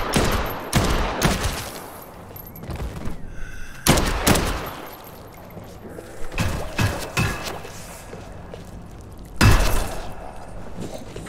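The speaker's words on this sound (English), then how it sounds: "Nail gun is stupid." Nail gun firing in a zombie video game, sharp bursts of rapid shots in several separate volleys with quieter gaps between, close and loud.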